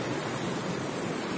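The flooded Dzheda river pours across a regional road near Zakamensk in a dense, steady rush of water, a continuous close hiss with no pauses and no voices.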